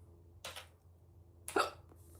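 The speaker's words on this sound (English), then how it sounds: "Not the hiccups." Two sharp, close hiccups about a second apart, loud against a quiet room with faint hum and no talking.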